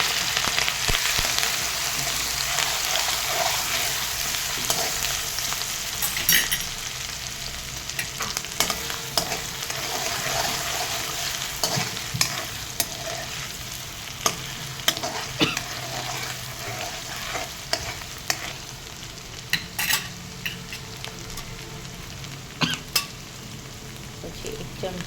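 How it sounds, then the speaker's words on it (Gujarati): Cumin seeds and ginger-garlic-chili paste frying in hot oil, a loud close sizzle with frequent spatula scrapes and clinks against the pan throughout. "પછી આદુ લસણ મરચાંની પેસ્ટ નાખી દેવાની છે."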